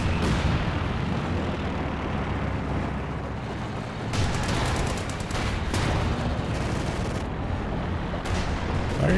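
Close air support strikes in Company of Heroes 2, a run of heavy blasts and gunfire-like booms rolling continuously, with sharper bursts layered over a dense, loud battle rumble and no talking.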